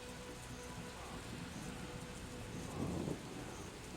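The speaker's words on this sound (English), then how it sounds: "the rain effect like makes everything kind of blurry" Rain falls steadily in a rainy level of the TimeSplitters 2 video game, played on Xbox One X. The downpour is a soft, continuous wash, with a brief louder rumble near the end and no talk over it.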